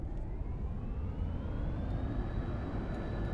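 Airplane engine at full power in the X-Plane flight simulator, a steady roaring drone with a slowly rising whine, moderately loud and continuous for several seconds, with no talk over it.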